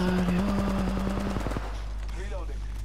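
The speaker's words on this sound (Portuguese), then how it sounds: "estás a dar tiros no ar?" Rapid automatic gunfire in Apex Legends, a fast regular burst of shots that stops partway through, with steady game noise continuing afterward.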